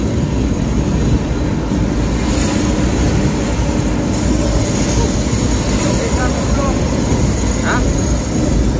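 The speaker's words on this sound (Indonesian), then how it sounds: "Knalpot ngorok nih guys." Bus on the Cipali toll road with a loud snoring-style ngorok exhaust. It makes a constant heavy low rumbling roar that is close and loud throughout, with a faint voice underneath.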